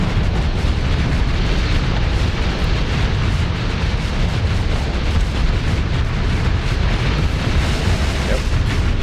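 Dense, continuous rumbling booms of torpedo explosions in the space combat game Starsector, loud and sustained without clear gaps, with no clear speech over it.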